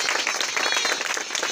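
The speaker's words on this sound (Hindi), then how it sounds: "जोरदार ताली बजा।" A congregation at a Friday prayer gathering in Kaushambi claps together, a short dense burst of fairly loud clapping with no voices over it.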